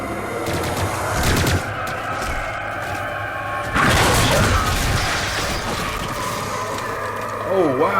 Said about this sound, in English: He's got like a laser rifle or something.